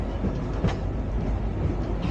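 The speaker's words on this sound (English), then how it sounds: "So glad we're not on a steam train today. We're on a diesel train." A 1953 diesel train rolls along tracks in Tasmania with a steady, loud, low rumble from inside the carriage and faint clicks of the wheels, with no talk.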